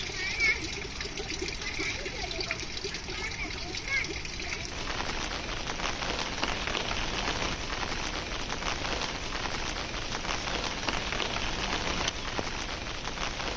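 Steady heavy rain hisses and patters continuously on surfaces nearby on the Madhmaheshwar trek, a dense, even wash of sound throughout.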